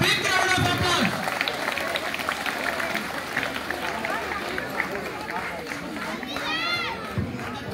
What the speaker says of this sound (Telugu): come on students, give them a big round of applause